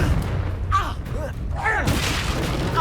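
Booming explosive impact of a Confringo blast spell in the Hogwarts Legacy video game, with mid-distance bursts and rumbling over game ambience and a brief voice.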